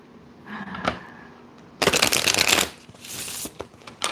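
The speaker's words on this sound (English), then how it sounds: "These cards shuffle so nicely." A deck of tarot cards is shuffled nearby, with a few light card snaps followed by a dense riffling burst of about a second and then scattered taps and flicks, with no talking.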